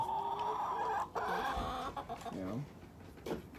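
Chickens cluck in a morning coop, with repeated short clucks and murmuring calls nearby, a few louder squawks, and a person speaking softly among them.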